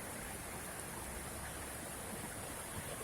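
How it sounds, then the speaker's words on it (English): Extremely heavy rain pours down in a windy thunderstorm, a dense, continuous hiss of water filling every moment at steady loudness with no breaks or voices. "So many water falling right now out from the sky."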